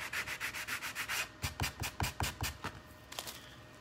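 Sanding block rubbing back and forth along the edges of a magnolia stencil craft piece, a steady run of close, rhythmic scrubbing strokes followed by quicker, sharper passes, with no talk.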